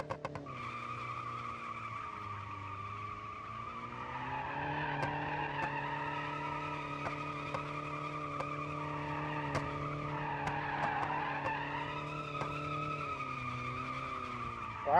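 A 1970s Soviet car driven in the Automation game, its steady engine drone rising and falling with tire squeal and skidding tones, continuous and moderately loud with no talking.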